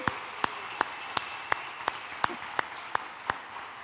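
A church congregation claps together in a steady, even beat, about three claps per second, over a continuous background murmur.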